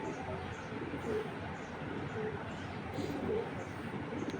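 Tournament breeder pigeons coo softly in the background over steady room noise, a few low repeated calls that are faint.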